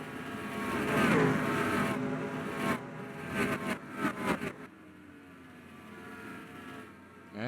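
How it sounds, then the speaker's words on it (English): Race cars slowing down on a track during a race, engines revving and dropping in pitch with several uneven bursts as they pass, then fading to a quieter, distant drone. "I think I hear some cars slowing down, so we might have some pit stops"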